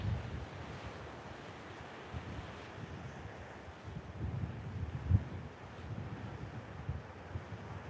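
Coastal wind at Hastings Point buffets the microphone in a constant low rumble, mixed with the wash of surf, with no voices.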